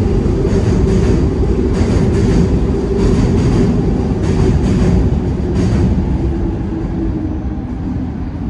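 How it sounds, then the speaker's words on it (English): An elevated train rumbles past overhead on a city street in Philadelphia's West Kensington, a loud, steady roar with rhythmic clacking of wheels on the rails that eases slightly toward the end. "We got the train about to pass us up top."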